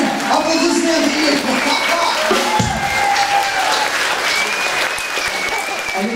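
Concert audience applause at a show in Brooklyn, with dense, loud, sustained clapping from a crowd and a few voices calling out over it.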